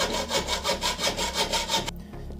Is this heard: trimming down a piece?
yes